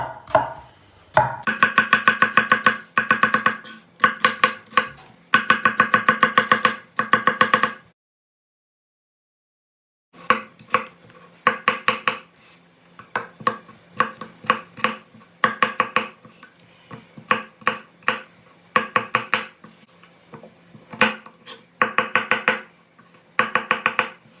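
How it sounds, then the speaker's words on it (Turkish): Onion being chopped with a knife on a board for a forest kebab, with quick, rhythmic bursts of crisp blade strikes, a brief silent pause partway through, then more steady chopping. No one speaks. "Hemen soğanını doğrayalım."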